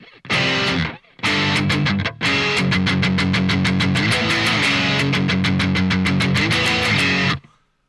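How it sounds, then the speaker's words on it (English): An electric guitar runs through a Boss GX10 amp with distortion, giving loud, gritty chords and rapid rhythmic strumming close up, with a couple of brief pauses before a sustained driving passage. "What you're hearing is my Boss amp, my Boss GX10. That's what you're hearing."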